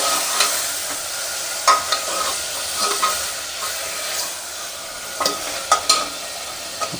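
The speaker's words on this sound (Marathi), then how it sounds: "छान एकदम लुसलुसीत मटन त्या ठिकाणी फ्राय होत आहे" Pieces of mutton thigh meat with liver and fat frying over low heat in a kadai, a loud steady sizzle punctuated by several sharp stirring scrapes and clinks, no voices.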